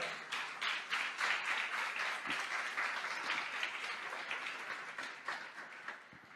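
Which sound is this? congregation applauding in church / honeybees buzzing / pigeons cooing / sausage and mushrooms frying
congregation applauding in church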